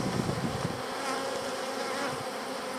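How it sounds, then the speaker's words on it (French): Honeybees in an opened hive make a dense, continuous buzz, close and fairly loud, with no voices. "abeille"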